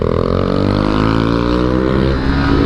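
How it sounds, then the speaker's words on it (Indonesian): A Yamaha WR155R motorcycle engine revving up close in second gear, its pitch climbing steadily through a single strong pull. "Tapi begitu kita naik ke gigi 2 revving up, ini tenaganya keluar ya"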